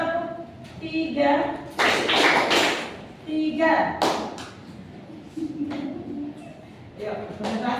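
Students in a classroom clap together in a brief three-beat burst, followed by a lone later clap, with a teacher talking throughout the gaps.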